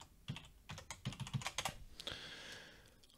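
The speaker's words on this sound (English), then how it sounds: "and then type in your password." A password goes in on a computer keyboard as a short run of quiet, close keystrokes in an uneven rhythm, ending in a firmer press, with no one speaking.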